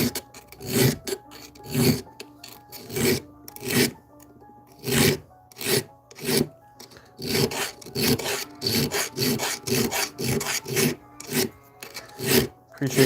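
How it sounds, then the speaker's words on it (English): A hand file rasps on wood in a steady back-and-forth rhythm of about a dozen strokes, each a loud, close scraping burst separated by short pauses. "how filing works."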